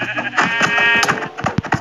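Sheep bleating in a capture-the-sheep video game minigame, several loud, wavering bleats overlapping in quick succession with game sounds behind them.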